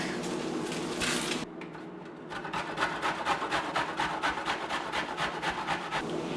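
Onions are rubbed against a hand grater in a kitchen, first with a steady scraping drone, then after a short pause in a quick regular series of rasping strokes, close and moderately loud.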